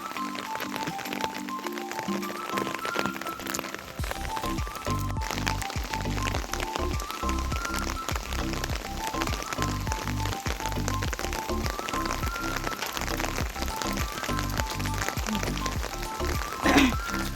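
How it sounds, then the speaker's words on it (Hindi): Steady rain patters on a surface outdoors, a dense continuous hiss with scattered drips, fairly faint and unbroken throughout. "और भी बारिश तो बहुत लगी है बाहर, पूरी रात की बारिश लगी है।"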